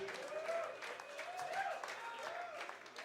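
A concert crowd at a live country show gives the band a round of applause, fairly distant and soft, with whoops and a few voices rising over the clapping.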